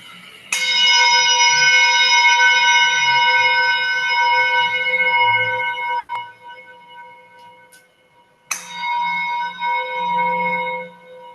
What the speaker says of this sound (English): we end this meditation by clearing the room with 3 chimes